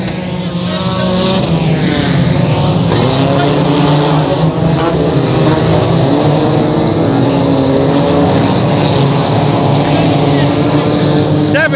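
Several race cars in the stinger feature at Thunder Valley Speedway in Glenmore, Louisiana roar loudly and continuously, engines droning and rising together as the pack circles, while a voice speaks over the noise.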